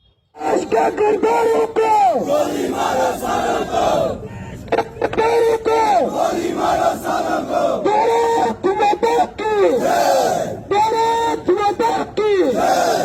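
A protest crowd in Udhampur, Jammu, chants slogans in loud, rhythmic unison bursts with short pauses between phrases, close and dense throughout.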